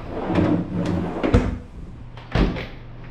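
A cabinet door and a drawer in a renovated rowhouse unit open and close, with a few knocks and thuds and a soft slide between them, close by and without talk.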